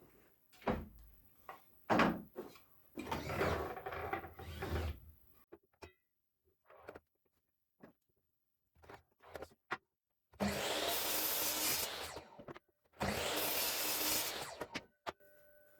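An air duct cover being cut to size, bursts of harsh sawing or cutting noise in several bouts separated by quiet gaps, with two longer, steadier runs near the end, close and without speech.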